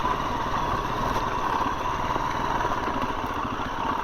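A 2021 KTM 350 EXC-F dirt bike engine idles steadily and close, a constant buzzing thrum with no change in revs across the short stretch, and no one talking.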